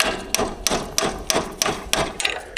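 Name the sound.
small hammer tapping on hay machinery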